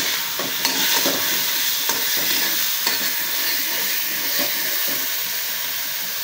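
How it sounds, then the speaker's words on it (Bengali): Baim spiny eel pieces fry with turmeric and salt in a spiced masala, giving a loud, steady sizzling hiss broken by scattered spatters and occasional stirring scrapes, with no talk. "মশলা ভুনা হলে দিয়ে দিলাম বাইন মাছ। এবার এর মধ্যে হলুদ, লবণ দিয়ে দিলাম।"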